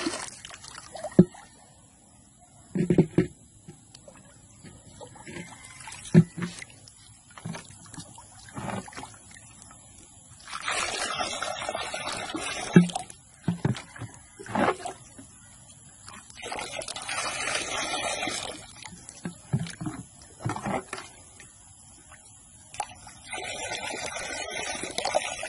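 Water flows and splashes while a pot is rinsed outdoors during a hunt for mosquito larvae, intermittent gushing bursts and trickles with scattered clinks, fairly close.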